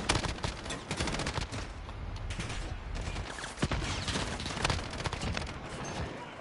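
Rapid bursts of gunfire in Call of Duty: Modern Warfare crackle almost continuously, dense overlapping shots in quick rhythm, loud and close throughout.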